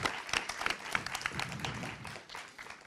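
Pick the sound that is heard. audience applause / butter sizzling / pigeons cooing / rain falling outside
audience applause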